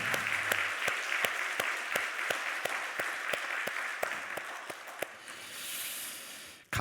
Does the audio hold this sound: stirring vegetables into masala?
no